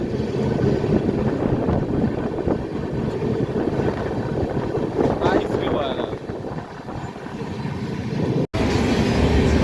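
Steady rumble and clatter of a moving train, with wind buffeting throughout and a brief dropout near the end.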